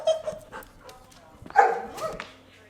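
A dog barks and yips indoors in a few short, separated bursts, with the loudest outburst midway, while a person's voice speaks quietly underneath.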